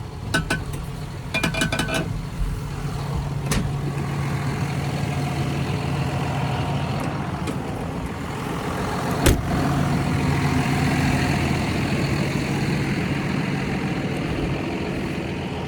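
Farm tractor engine idling steadily in a hay field before mowing, a constant low rumble inside the cab with a few light clanks and rattles and no talking.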